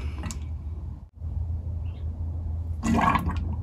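Oil pours steadily into the transfer case of a 2018 Toyota Tundra, a continuous liquid trickle, briefly interrupted, then a louder splashing burst near the end.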